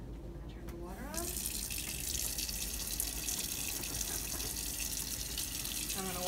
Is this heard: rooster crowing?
no